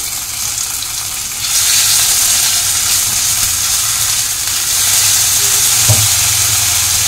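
Ginger paste and chopped green chilli frying in a pan for a paneer and chana dal dish, a steady close sizzle that swells louder after a second and a half and keeps hissing evenly, with one brief knock near the end.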